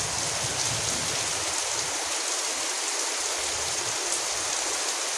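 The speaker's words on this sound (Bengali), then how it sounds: "বর্ষাকালের বৃষ্টি অনেক সুন্দর।" Heavy monsoon rain pours down on a village, a loud, steady broadband hiss of drops on surfaces that continues unbroken throughout, with no voices.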